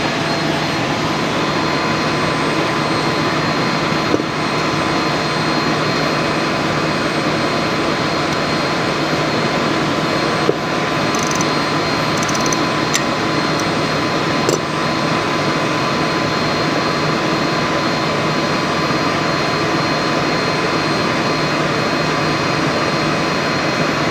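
A steady, even mechanical drone with a constant hum runs throughout, loud and unbroken, from an old induction motor running continuously nearby.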